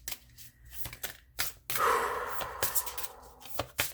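A deck of tarot cards is shuffled in close, quiet bursts: short riffles and snaps, then a longer rippling run, followed by more scattered flicks.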